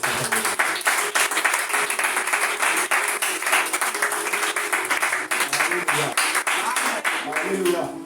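A church congregation applauds during a Sunday service, with dense, sustained clapping and cheering filling the space, loud and close, and a preacher's voice speaking French over the crowd.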